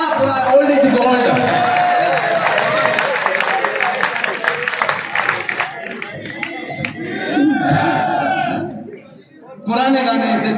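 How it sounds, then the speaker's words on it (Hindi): An audience claps and cheers at a Hindi poetry recital (kavi sammelan) held in a town, with loud sustained applause under the poet's voice, a brief lull near the end, then clapping resuming. "ऐसे नहीं, पूरा सदन ताली बजा के बता के हाँ"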